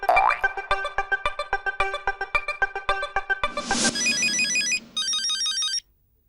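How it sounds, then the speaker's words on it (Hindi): A telephone ringtone repeats in a steady pulsing pattern, loud and close, then gives way to a bright electronic chiming tune in a kitchen scene of the Hindi family sitcom Taarak Mehta Ka Ooltah Chashmah; no talking over it. "अरे हमारा गोगी डिकरा नो फोन।"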